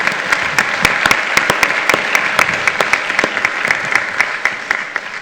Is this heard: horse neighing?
no